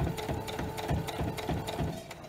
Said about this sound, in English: Twisting the fabric as we sew through this curve.